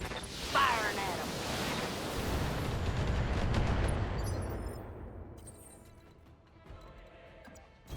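Weapons fire at an enemy mech in the Battletech video game, a loud, sustained rumbling barrage of blasts and explosions that swells and then fades away, followed by quieter game sounds.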